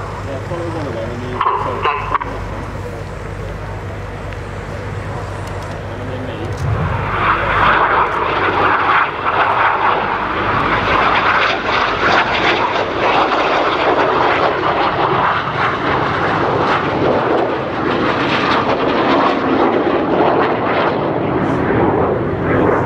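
Red Arrows jets perform an air display at RIAT 2012, their engine roar swelling from a distant rumble into a loud, sustained close pass that fills the air, with a commentator's voice faintly underneath.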